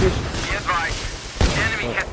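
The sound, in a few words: gunfire in video game Battlefield 3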